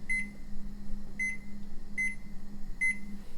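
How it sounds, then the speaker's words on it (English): An oven timer being set for turkey legs cooking at 350 degrees beeps four times in an even rhythm over a low appliance hum, close and clear with no talking. "So I'm going to set my timer."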